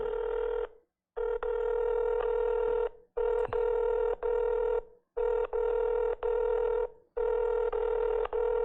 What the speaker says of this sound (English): That's a weird ring.